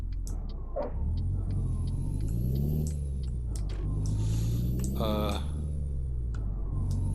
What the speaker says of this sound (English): This has got the wrong engine sound in it, but that's okay.